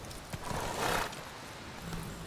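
A horse neighs in The Witcher 3, a whinny rising over steady game background noise with faint hoof-like thumps, brief and fairly close, with no talking.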